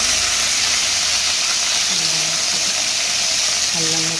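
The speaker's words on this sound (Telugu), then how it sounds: "వెల్లుల్లి రెబ్బలు, అల్లం ముక్కలు వేసుకొని కొంచెం రెడ్ కలర్ అయ్యే వరకు మగ్గించుకోవాలి." Garlic cloves and ginger pieces fry in a pan for fenugreek leaf chutney, a constant close hiss and sizzle with brief tonal sounds rising over it.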